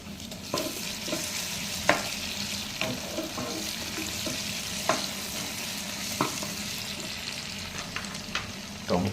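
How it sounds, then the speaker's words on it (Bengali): Garlic and chopped ginger frying in a pan while being stirred, a steady sizzle broken by regular scraping and tapping strokes of the spoon over about nine seconds, no voices. "রসুন দিয়ে দিলাম, এই আদা কুচি দিয়ে দিলাম"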